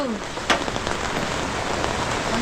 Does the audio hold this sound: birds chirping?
no